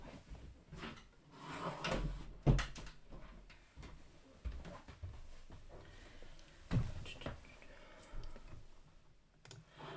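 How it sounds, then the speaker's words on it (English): An indoor room door is pulled shut amid light household clatter, with a couple of sharp thuds standing out, one louder knock near the middle and another later, close to the microphone and with no talking. "I'm just gonna close the door."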